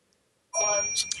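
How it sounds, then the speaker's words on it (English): A phone ringing during an online panel discussion: a sudden, loud electronic ring with steady tonal chirps begins partway through and continues to the end, after a near-silent start. "So my phone's ringing."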